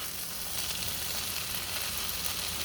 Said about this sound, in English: Took the lid off. Let it do some frying.